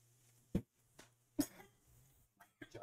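A few sharp coughs in separate bursts, close and fairly loud, with short quiet gaps between them and a low steady hum underneath.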